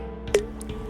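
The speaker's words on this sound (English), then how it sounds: "So, put the pill in the water?" A single drip-like plop of a pill dropping into water, then a faint squishy bubble, all brief and quiet over a steady low background hum.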